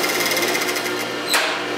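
An industrial sewing machine stitches belt loops from cut denim with a fast, steady, loud mechanical chatter, close up and without talk.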